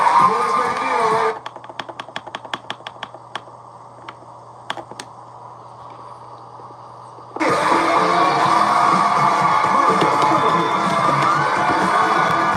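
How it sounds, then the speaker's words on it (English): A game show studio audience on Let's Make a Deal breaks into loud cheering and applause, bursting up after a quieter stretch of scattered claps and whoops, then sustaining a dense roar to the end. "Give a big round of applause."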